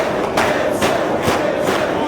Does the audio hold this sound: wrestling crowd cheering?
yes